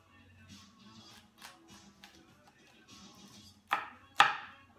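A knife cuts a cauliflower into thick chunks in a home kitchen, two sharp chops on a board standing out after quieter handling sounds, with faint talk in the background.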